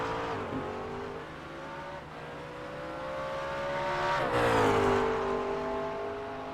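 A GT3 race car at Bathurst in a racing video game, pushed hard down the mountain with tire smoke: a loud, close, continuous engine drone that climbs and dips in pitch, swelling near the end. No talking.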